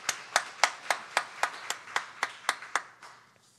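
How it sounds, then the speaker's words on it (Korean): Church congregation at an early-morning prayer service gives a blessing clap: about a dozen sharp, evenly spaced unison claps that stop abruptly, with no talking. "우리 축복의 박수 하도록 하겠습니다"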